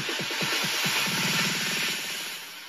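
A studio percussion fill loop plays a quick, tightly repeating run of drum hits that tumbles faster toward the middle, close and moderately loud over a hissy background, with no voices.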